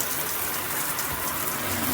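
Water from a rainfall shower head pours in a steady, dense hiss, a continuous close spray like rain on a surface, with no voices.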